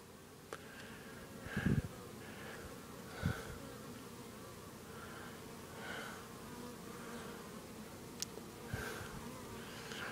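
Honey bees buzz around a hive at a fledgling Japanese bee farm, a continuous soft drone of many wings with individual bees swelling louder as they pass close, plus a few faint knocks.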